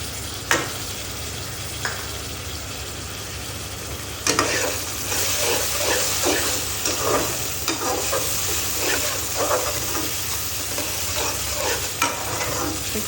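Finely chopped peeled tomato hits a pan of kaleji masala and fries with a steady sizzle, punctuated by repeated scraping strokes of a spoon stirring the mix, close and alone with no voices.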